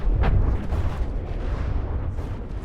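Weapons fire in the naval combat game From the Depths as a dense, continuous rumble of booming shots and blasts, loud and unbroken throughout with no talk.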